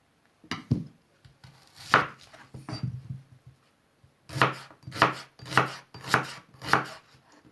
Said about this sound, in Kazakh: Енді ораманың наны бұққанша пиязды, картопты турап мына фаршқа қосамыз.